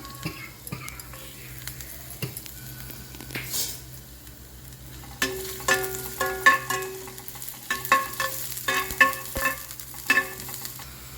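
Seven or eight cut garlic cloves hit hot oil in a kadai, starting a crackling sizzle that grows busier with clinks of a stirring spoon against the pan, close and moderately loud, after a quieter stretch.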